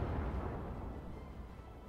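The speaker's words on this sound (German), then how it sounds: "Nochmal mit AP geschossen." The Scharnhorst battleship fires armour-piercing shells in World of Warships, a deep, heavy boom that rolls and slowly fades over two seconds.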